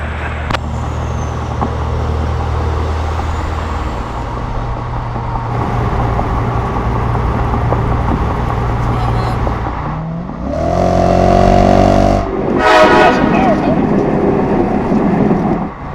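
A big rig truck accelerates hard from the cab, its engine roaring as a steady, loud drone that swells and shifts pitch around the middle, with faint talk underneath.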